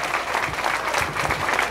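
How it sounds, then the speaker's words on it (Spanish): Steady applause from a crowd at a Mother's Day celebration, dense and even throughout, with no voices rising above it. "Un fuerte aplauso para ellos, que ellos se lo merecen"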